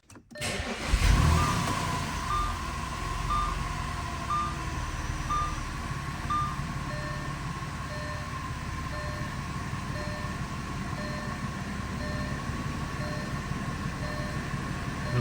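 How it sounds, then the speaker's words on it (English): An Audi A4 sedan's engine, 2005-2011 C6 generation, cranks and starts after a fuel filter job, then idles steadily with a low rumble and a faint repeating beep, no talk over it. "Yes, I will start the car now."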